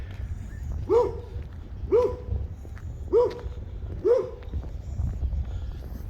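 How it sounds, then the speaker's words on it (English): Four evenly spaced barks from two dogs behind a fence ring out about a second apart, fairly close, over low background rumble, in Yucca Valley. "I got two dogs on over here. I'm making them bark."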